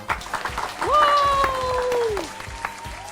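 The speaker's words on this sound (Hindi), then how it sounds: "एक दफा फिर हमारे कहानी क्विज विनर हैरी के लिए जोरदार तालियां।" A burst of clapping and applause from a small group for a children's story quiz winner, with a bright whooping voice rising and falling over it.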